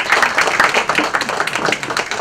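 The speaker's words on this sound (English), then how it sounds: "can we have a huge round of applause for him?" Audience applause at a book launch for the author, a dense steady wash of many hands clapping, loud and sustained throughout.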